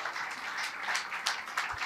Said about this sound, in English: can you give the Lord a clap offering?